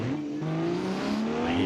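A car engine in BeamNG revs steadily while driving, a continuous rising drone with a faint hint of tyre noise, loud and alone with no talk.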